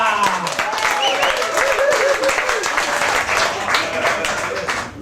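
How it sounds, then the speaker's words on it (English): Pub crowd at a hotel comedy night applauding a comedian coming on stage, sustained loud clapping with some cheering and whistles mixed in, continuous for the whole stretch. "I want you to give a big Brinkworth Junction Hotel round of applause, Mr. Scott Steensma!"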